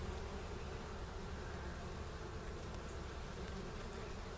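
Honeybees swarming around an opened spring brood box during hive inspection; a dense, constant buzzing hum filling the whole stretch, close and steady without pauses.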